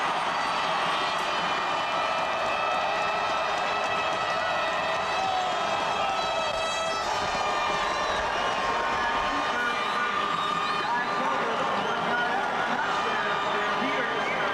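Calgary Stampeders fans roar and cheer after a touchdown at the 1991 CFL Western Final against Edmonton, a continuous loud crowd din with whistles rising over it and an announcer talking throughout.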